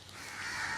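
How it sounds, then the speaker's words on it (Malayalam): A crow caws once in a brief, faint burst amid village farmland surroundings, with no voices present. "ഭയങ്കര കാക്കകളുടെ ശല്യം ചേട്ടാ."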